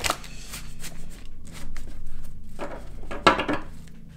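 Tarot cards shuffled by hand in a steady run of close, papery riffles and soft slaps, ending in a sharper burst of card noise near the end, with no talking.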